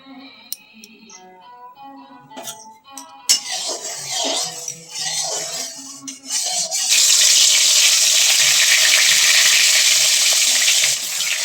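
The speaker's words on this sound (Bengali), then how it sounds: "মাছ ভাজা চলছে" Fish sizzles in hot oil in a home kitchen, a soft crackle at first that swells into a loud, steady, continuous fry for the last few seconds, with faint tonal sounds early on.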